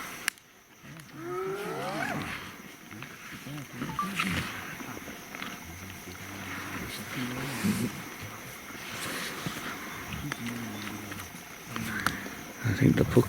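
Hyenas feeding on a puku carcass in the African bush, heard as scattered whoops, growls and squabbling calls, some near and some farther off, over an outdoor insect and engine hum with people talking at times.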